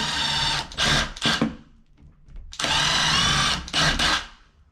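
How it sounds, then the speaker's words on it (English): A power drill drilling holes at a windowsill for roller blind brackets whirs in two bursts of steady high-pitched grinding, with short stops and restarts in between, loud and close. "Now we can drill these ones here through."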